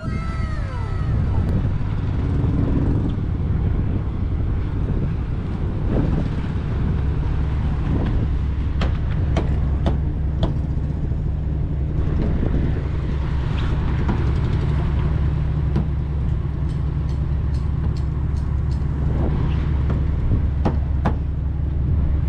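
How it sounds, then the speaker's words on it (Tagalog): A mother boat's engine running steadily after being started, a loud continuous low drone and hum throughout with occasional sharp knocks and clatters on top. "pinaandar ng makina"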